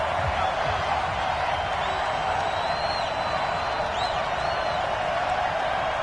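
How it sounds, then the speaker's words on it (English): Simulated stadium crowd in the Dome during a football video game, a steady loud roar with faint whistling tones above it, continuous and without pauses. "The crowd here in the Dome making things difficult."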